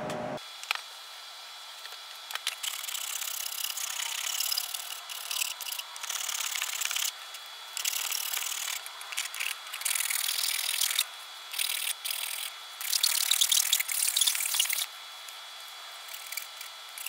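A hand file shaves back an offset wing on a model rocket, producing steady, close rasping strokes that are bright and scratchy and broken by short pauses between pushes.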